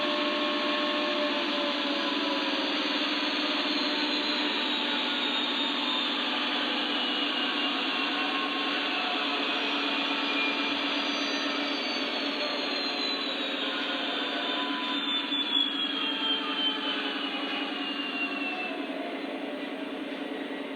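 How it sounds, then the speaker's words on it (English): A Lionel Legacy Union Pacific model diesel locomotive's engine sound at max revs whines steadily and continuously, with a thin sustained mechanical tone and no voices. "The engine is now producing the sound of the engine being at max revs per revolution."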